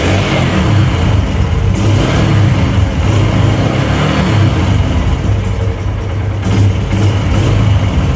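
A Yamaha YBR125 motorcycle with a butterfly carburetor revs loudly and close as the throttle is blipped in small and larger bursts, its engine note rising and falling steadily throughout.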